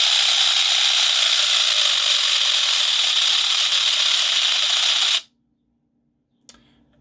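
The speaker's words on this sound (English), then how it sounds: "the motor is very noisy, but it does actually do the job" A continuous rotation DC servo motor jogs fast in reverse, giving a loud, steady, harsh ratcheting whir for about five seconds that cuts off abruptly, followed by a faint click.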